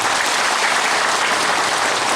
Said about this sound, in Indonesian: Boleh kita tepuk tangan sekali lagi.